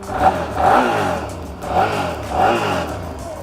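A motorcycle engine with stock exhaust revs up twice in quick bursts, rising and falling, close by and loud with no talking.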